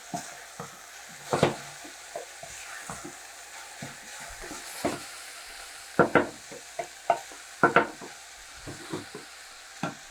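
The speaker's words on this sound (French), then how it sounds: "Après ça, on ajoute les liquides. Tranquillement, on laisse mijoter." A sauce simmers in a saucepan after being deglazed with Ricard, giving soft bubbling and sizzling with scattered clinks and stirring knocks of a utensil against the pan, close and moderately loud.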